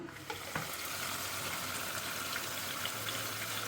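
Turmeric-and-salt-rubbed prawns fry in hot oil for a spicy pickle, giving a continuous close bubbling sizzle with a brief clatter early on and no speech.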